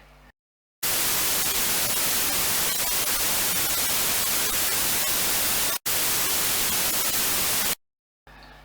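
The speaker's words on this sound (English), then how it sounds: "every other digital noise generator I've ever come across" Loud, harsh hiss of white noise filling everything, switching on after a short silence, cutting out briefly once, then stopping abruptly.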